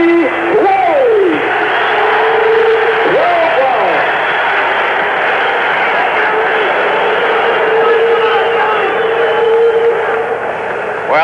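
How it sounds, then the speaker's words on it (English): A Madison Square Garden boxing crowd before a heavyweight bout featuring Irish Gerrie Quarry keeps up a steady, loud roar throughout, with whistles and hoots rising out of the din. "There were some mixed boos and cheers in there."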